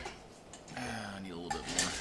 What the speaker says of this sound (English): So now we'll throw some ice in it.